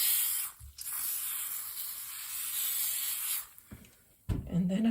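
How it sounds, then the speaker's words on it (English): Several hissing bursts of a spray can, one long spray followed by short ones, close by, with brief pauses and a voice starting at the end. "Now I'm going to spray some more spray starch to really get that to move around."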